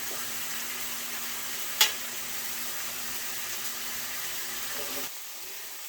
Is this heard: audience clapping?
no